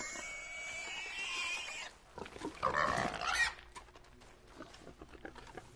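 Big China pigs in Red Dead Redemption 2 grunt and squeal in a few rough bursts, with a noisy rustling stretch before them and scattered softer snorts trailing off afterward, and no talking.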